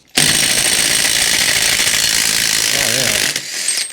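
A DeWalt power tool, likely an impact gun, runs in one long loud continuous burst of ratcheting hammering while removing a front hub bearing on a Toyota, then cuts off near the end.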